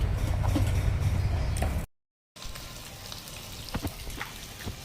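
Rohu fish frying in hot oil, a dense steady sizzle heard up close, cut by a brief gap of silence before softer crackling resumes with scattered pops.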